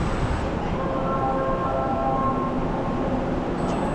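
A Seoul subway train on Line 6 at Hyochang Park station runs as a steady, close rumble, with faint tonal squeals rising briefly in the middle, and no voices.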